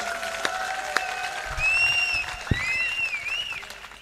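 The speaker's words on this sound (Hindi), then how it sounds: "ताली बजा दीजिए जरा" Audience applause at a Hindi kavi sammelan comedy-poetry event: a burst of clapping swells mid-clip and carries on steadily under lingering sung tones, with a few sharp claps standing out.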